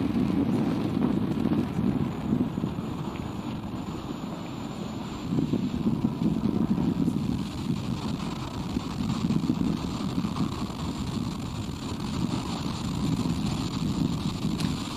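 Falcon 9 rocket climbing after liftoff on the NROL-113 launch, heard as a steady, distant low roar and crackle that swells and eases across the whole stretch, with no talk over it.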